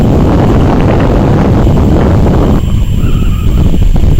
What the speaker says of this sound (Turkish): rüzgar insanın kulaklarına tıkıyor